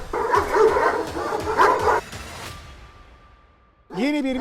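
Several Kangal dogs bark and howl together at close range for about two seconds at a facility housing around 100 dogs, then quiet, before a person starts talking.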